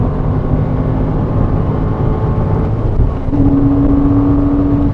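A Porsche Cayman drives on track at Goodwood, its engine a loud, constant in-car drone that holds a steady pitch, with a slight shift in tone near the end.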